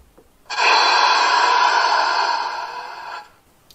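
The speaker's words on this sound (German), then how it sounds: "Druckluft ablassen," A loud, steady hiss of compressed air released by a Märklin gauge 1 model SBB locomotive starts abruptly, holds for nearly three seconds, then tapers off quickly into quiet.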